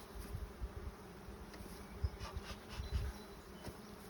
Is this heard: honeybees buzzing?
yes